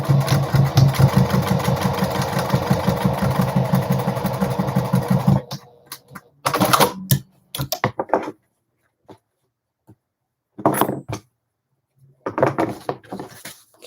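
A Juki TL-2010Q sewing machine stitches a folded fabric key fob closed, running fast and steady with a rapid rhythmic hum, then stopping and restarting in short bursts.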